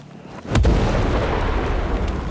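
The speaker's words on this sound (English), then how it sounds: "And they're firing mortars." A mortar round in Sniper Ghost Warrior Contracts 2 lands with a sudden heavy boom, followed by a loud rumbling tail that lingers and slowly fades.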